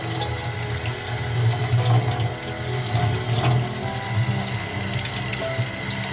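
Tap water running steadily into a sink while a paint stencil is rinsed, a continuous close splashing stream with faint rubbing and handling noises underneath.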